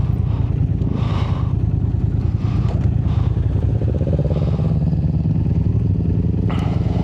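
A Yamaha TDM 900 motorcycle ridden off-road on a dirt trail, its engine rumbling loud and steady throughout with clattering and rattling from the rough ground, heard up close from the rider's position.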